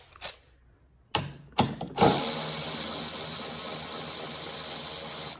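Ratcheting socket wrench with an 8mm socket loosening bolts on a Cub Cadet XT2 tractor, a few short clicks followed by a steady, close rapid ratchet whir with a hissy mechanical edge.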